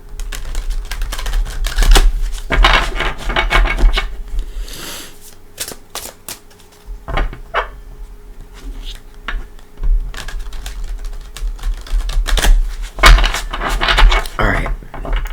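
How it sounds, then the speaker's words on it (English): Tarot cards riffled and shuffled by hand, repeated close, crisp bursts of rapid flapping with short pauses between, fairly loud over a low background hum. "Let's give it a couple shuffles this way."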